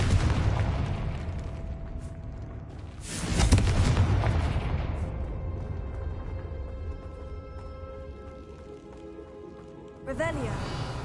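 A Confringo spell explosion in the Hogwarts Legacy video game bursts loudly about three seconds in. A rumbling tail follows, then a sharper magical effect near the end, over a busy game soundscape.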